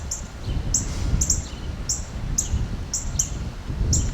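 A bird chirps close by, giving a run of short, high, bright calls repeated steadily about every half second over soft outdoor background noise, with no talking.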